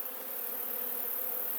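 Honey bees buzz at an open hive in a yard in Piedmont, a steady, dense hum that holds close and even, with no talk.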